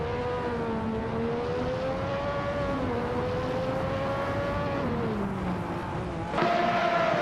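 A 1988 Benetton B188 race car holds a steady high engine drone as it runs in a race, its pitch rising and falling gently with a louder surge near the end.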